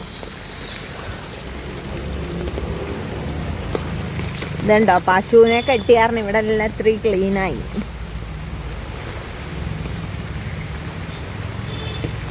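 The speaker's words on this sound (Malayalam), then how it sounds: "മഴ ഇത്തിരി കുറഞ്ഞിട്ടുണ്ട്" Evening rain keeps up a steady, even hiss from start to finish, while a person speaks for a few seconds midway over it.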